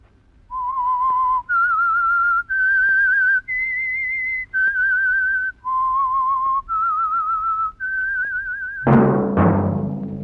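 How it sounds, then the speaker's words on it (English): A melodic whistled theme for the mystery radio drama The Whistler, a clear solo whistle moving through eight sustained notes in steady succession, followed at the end by a brief burst of bright orchestral sound. "that whistle is your signal for the signal oil program, The Whistler"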